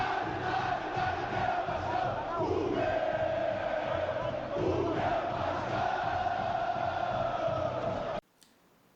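A football show's vignette jingle mixed with a roaring stadium crowd of Vasco fans, a dense continuous cheer with a tonal musical bed, loud and steady for about eight seconds before cutting off abruptly.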